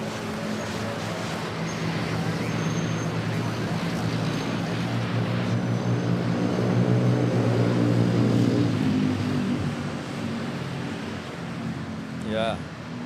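A Lufthansa Airbus A340-600 sits at Manila airport, its engines or ground power giving a steady, loud broadband roar with low droning tones, while people talk over it throughout.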